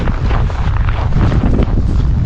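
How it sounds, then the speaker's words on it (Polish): Steady, loud wind buffeting the microphone with a deep continuous rumble, no voices, outdoors in freezing frost. "słyszycie, wiatr taki, że aż kurde twarz marznie"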